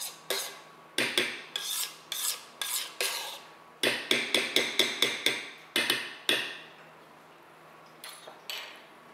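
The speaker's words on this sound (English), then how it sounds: "I'm gonna scrape down the sides because otherwise you get a lot of it that doesn't get mixed in." A utensil scrapes down the sides of a mixing bowl during the final mixing of a creamy batter, in quick rhythmic rasping strokes, some in fast clusters, close and alone without talk.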